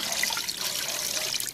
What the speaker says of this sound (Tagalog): At tubig para papalambot sa kanya.